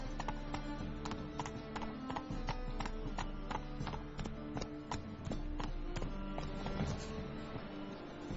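Horse hooves clip-clopping in a quick, steady rhythm as a mount gallops in The Witcher 3: Wild Hunt, close and clear over a low ambient hum.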